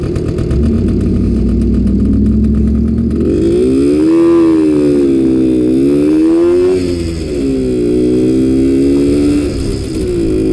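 The engine of a 1966 Suzuki K15 motorcycle runs very loud and close, idling at first and then revving up and down in repeated smooth pitch swells.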